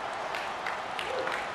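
A tournament crowd cheers and applauds after a touchdown in a Madden football game, forming a steady wash of clapping and cheering that stays moderate in level throughout.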